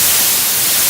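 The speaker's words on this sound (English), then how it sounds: "There's a bit of white noise." Steady white noise hisses from the noise generator of a Studiologic Sledge synthesizer, a dense, even, loud wash that runs without any change for just under a second.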